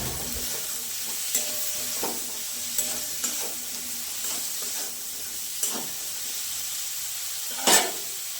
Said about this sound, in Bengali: বিনস আর ক্যাপসিকাম হালকা ভাজা ভাজা হয়ে গেছে